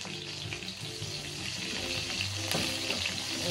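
Onion fries in a pan for squid adobo (adobong pusit), giving a dense, continuous sizzle at close range, with faint tonal sounds in the background.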